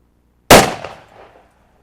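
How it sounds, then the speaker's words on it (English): A single loud, sharp report from a Polish AK47 rifle, followed by a short echoing decay in open air. "I'll dispense a few rounds."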